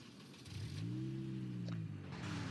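A mini car in the Madciti video game drives off, its small engine humming and revving up in a steady rising-and-falling tone for about two seconds, close and clear with no talk.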